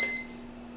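A single short, high electronic beep from a digital space heater as it is plugged in sounds up close and fades quickly, leaving a faint steady hum behind it.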